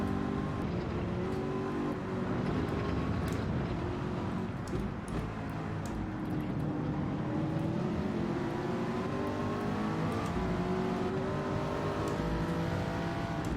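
A Toyota Supra race car engine in the Gran Turismo video game drones loudly and continuously, its pitch climbing and shifting through gear changes as it accelerates, with no voices over it.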